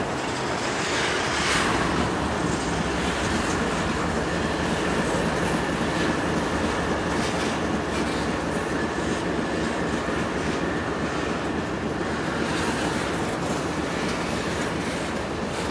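A train rolls past at Brunswick, Maryland, its continuous loud rumble and rail noise filling the whole stretch with steady wheel clatter from start to finish, no voices.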